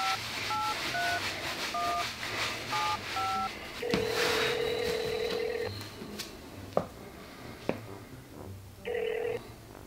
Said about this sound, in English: We're gonna call this number, put it on speakerphone